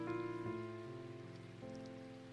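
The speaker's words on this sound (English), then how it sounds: "I glanced out at the rain. It kept falling relentless, loud, filling the silence between us." Soft rain patters outside a remote cabin in a video game, a faint steady wash beneath sustained, slowly shifting musical chords.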